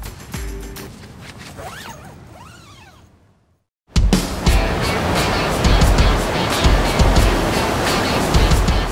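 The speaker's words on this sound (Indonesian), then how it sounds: "Suara deburan ombak" Ocean waves break on a beach at Goa Langir. After a quiet stretch with small rustles, a loud, continuous roar of surf begins and washes on close by.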